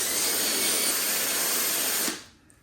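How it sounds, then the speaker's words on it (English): A drill brush scrubs a vinyl boat seat with a loud, steady whirring and hissing grind for about two seconds, then cuts off abruptly, leaving quiet. "we're going to scrub this seat real quick"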